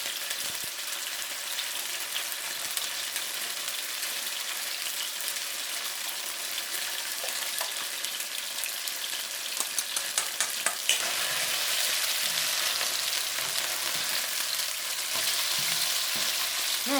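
An egg frying in tomato sauce with tofu gives a steady, close sizzle throughout, growing brighter and louder partway through with a few scraping clicks, with no voices.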